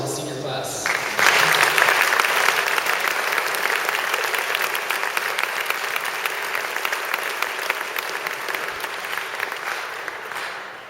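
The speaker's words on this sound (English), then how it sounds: "let's just give one round of applause to the senior class" An audience gives a long round of applause for the senior class at a high school graduation. The dense, steady clapping swells quickly, holds for several seconds, then slowly tapers.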